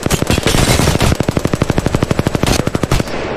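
The Spitfire light machine gun in the video game Apex Legends fires close and loud in rapid, evenly spaced bursts, with a brief gap before a final run of shots that trails into ambient noise; nobody speaks.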